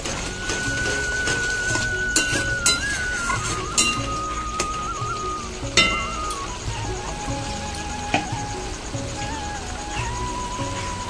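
Egg curry is stirred in a pot, with a spoon clinking and scraping against the metal in irregular knocks over a steady background hum, close by.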